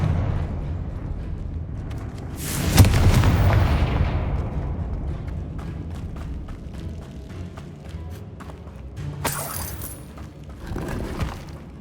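A Confringo fire-blast spell in Hogwarts Legacy erupts as a loud booming burst, then fades into a crackling rumble, and a second, smaller blast flares near the end.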